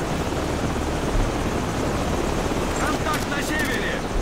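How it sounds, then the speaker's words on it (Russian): Enemy helicopters approach in the Call of Duty Modern Warfare 2 video game, a steady, dense rotor and engine roar that fills the clip, with a radio-style voice speaking over it near the end. "Внимание! С северо-запада и юго-востока приближаются вертолеты противника."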